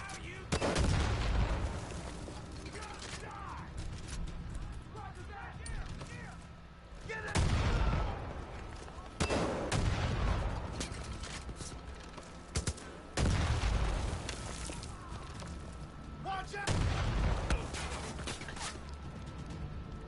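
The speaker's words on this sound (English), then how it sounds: "All the explosions." Explosions and bursts of gunfire from the video game Far Cry 5, with repeated loud blasts in clusters over a constant rumble of combat and scattered shots.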